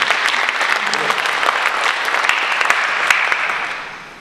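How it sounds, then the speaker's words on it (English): An audience at a spiritual center lecture bursts into steady, full applause that holds strong for several seconds before tapering off at the end. "Give her a round of applause for doing that"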